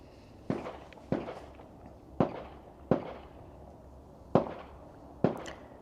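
Six sharp, loud bangs from a CMMG Dissent MK3 .308 rifle fire at uneven intervals, each with a quick echoing decay, over a faint steady background.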